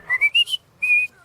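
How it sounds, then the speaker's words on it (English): A person whistles a short tune, four quick rising chirps followed by a longer held note, close and clear with no talking. "And you whistle away."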